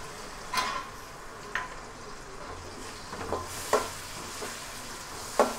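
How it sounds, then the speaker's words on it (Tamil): Small onions and ground cumin sauté in a pan for vanjaram fish curry: a soft background sizzle with a handful of sharp spatula clinks and scrapes against the pan at irregular intervals, no voices. "இது சின்ன வெங்காயமும் ஜீரகம் அரைச்சது சேர்த்த உடனே இது பச்சை வாசம் போகிற அளவு வணங்கிக்கணும்"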